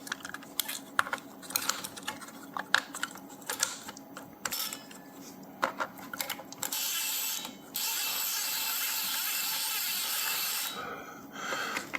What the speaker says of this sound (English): I'm going to wind this onto one side